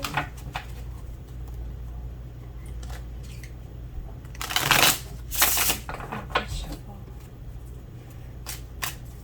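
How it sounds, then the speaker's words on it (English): Tarot cards are shuffled and pulled from a deck, a soft riffle under a steady room hum, then a few louder flicking bursts near the middle, with light clicks after. "Let's pull some cards for pile two."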